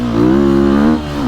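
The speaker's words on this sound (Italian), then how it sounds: "sentite che spinta che ha questo motore" A Sherco enduro motorcycle engine pulls hard under acceleration, a close, loud, steady rising engine note that dips briefly near the end.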